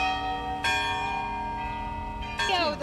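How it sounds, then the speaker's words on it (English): Cathedral bells ring out to mark the announcement of a new pope, with bright, sustained tolling strikes that overlap and decay, fresh strikes landing near the start and again near the end. "He is one of many who heard the cathedral bells ring for several minutes Thursday afternoon"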